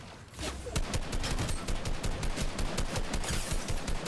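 Rapid automatic gunfire from the 302 gun in the Fortnite video game, a dense, continuous rattle of closely spaced shots lasting several seconds, loud and near with no talk over it.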